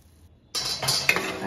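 Hot oil tempering bursts into a sudden close sizzle over hinga mirsang, a tangy Konkani side dish, with brief metallic utensil clinks following after a quiet start.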